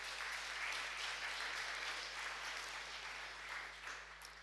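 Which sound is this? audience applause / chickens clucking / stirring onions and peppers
audience applause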